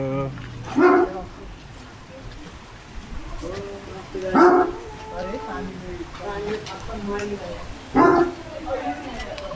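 A dog barks in three separate single bursts spaced a few seconds apart, fairly close and loud, with people talking in between.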